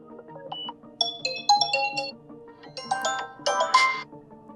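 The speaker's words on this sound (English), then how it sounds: "when you click on it, you can change the ringtone sound." A Vivo Y28 5G phone plays a bright, chiming melodic ringtone, its bell-like notes rising and falling in quick phrases at moderate loudness with no voices over it.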